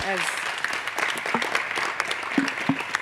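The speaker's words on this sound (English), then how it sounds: "Can we give a round of applause to our panelists" A panel discussion audience gives a round of applause, with dense scattered clapping and a voice talking briefly over it.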